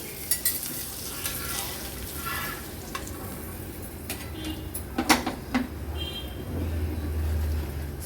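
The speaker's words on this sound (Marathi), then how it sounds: "सुंदर अशा आपल्या किंग साईज सुरमईच्या तुकड्या फ्राय झाल्या आहेत" Oil sizzling steadily as king-size kingfish (surmai) pieces fry in a pan, with a few sharp clinks and scrapes of utensils and a low hum toward the end.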